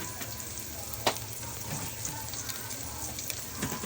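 Mussels with chili leaves simmer in a peppered broth, giving a steady, soft bubbling hiss throughout with occasional faint clicks and pops, close and even, without talking.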